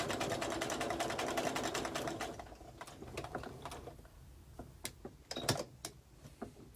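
A sewing machine stitches small fabric pieces in a fast, close, rapid burst of needle clatter for about two seconds, then stops. Softer handling clicks and taps follow.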